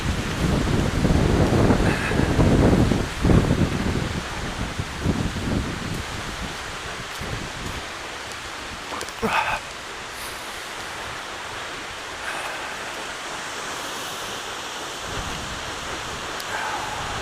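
Seljalandsfoss waterfall in Iceland rushes with a steady, broad roar, with wind buffeting the microphone strongly in the first few seconds before settling into continuous falling-water noise.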